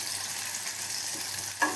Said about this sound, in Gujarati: એમાં હવે લસણ થોડા સોતે કરી લેવાના છે આપણને